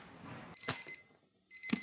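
A kitchen timer sounds for a braise of baby-back ribs: two short, faint electronic beeps about a second apart in a quiet kitchen.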